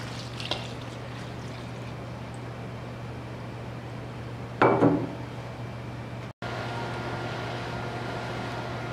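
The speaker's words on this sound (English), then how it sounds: "and I'm going to pour my red wine into my aromatics." Red wine poured over chopped carrots, parsley, garlic, thyme, bay leaf and onions in a quiet kitchen, a short liquid splash midway through.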